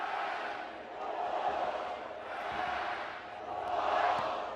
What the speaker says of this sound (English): Wolfpack serenaded by the crowd.